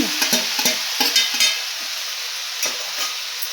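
Onion and tomato pieces sizzle in a pan for a tomato curry, with a string of close spatula scrapes and clacks early on that thin out as the frying settles.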